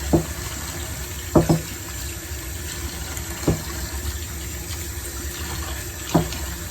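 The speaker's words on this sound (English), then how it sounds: "So just rinse it and leave it here for a while." A part of a cooker hob is rinsed under a running kitchen tap, with a steady hiss of flowing water and occasional clunks as the piece is moved in the sink.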